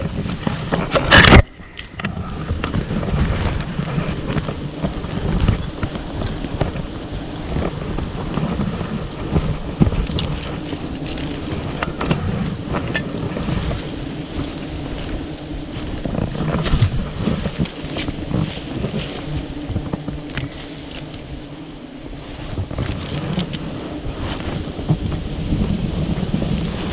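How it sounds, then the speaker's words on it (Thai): Strong wind roars through a forest during a climb to harvest wild giant honeybee combs, a loud continuous rumbling gust noise with buffeting and occasional knocks, no clear talking. "ลมแรงครับ"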